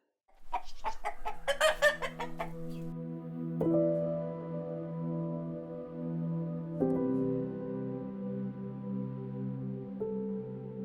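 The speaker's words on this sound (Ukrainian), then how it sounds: "А за нами йшов червоний півень у червоних штанях, і казав, як господар" A rooster crows loudly nearby, a long drawn-out call after a few sharp clucks, then further stretched crowing notes trailing off.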